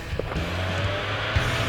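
A Mazda Miata with a freshly repaired exhaust idles close by, a steady low engine drone with a brief rev blip near the start and another near the end.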